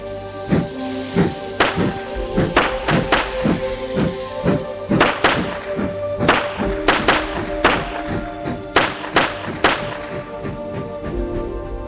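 Railway detonators on the line bang one after another as the last scheduled train leaves Bath Green Park station on the Somerset and Dorset, a rapid irregular barrage of sharp loud cracks over a steady background hum.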